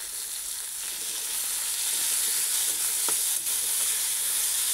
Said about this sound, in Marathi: टोमॅटो पण आपल्याला असा मस्त छान भाजून घ्यायचा आहे